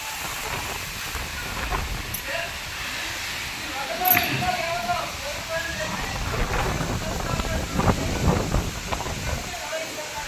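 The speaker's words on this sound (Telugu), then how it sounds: "గాలి విపరీతమైన గాలి" A strong windstorm roars and buffets steadily across a village pond, a continuous rushing noise, with voices faintly underneath.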